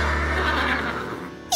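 A horse on a farm in a children's cartoon gives one long, loud, wavering whinny that fades at the end, heard alone with no talking.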